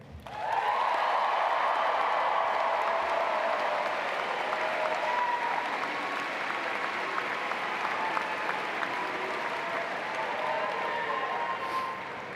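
An audience applauds at a university welcome ceremony, a dense sustained roar of many hands clapping that swells at the start and stays steady for about twelve seconds before tapering slightly, heard from within the hall.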